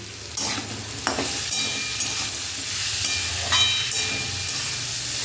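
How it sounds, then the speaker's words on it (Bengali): Torn soya chunks fry and get stirred in a pan, a steady hiss and sizzle with scraping stirs every second or two, close up and without talk. "এবার এর মধ্যে আমি সোয়াবিনটা ছিঁড়ে রাখা সোয়াবিনটা দিয়ে দিলাম।"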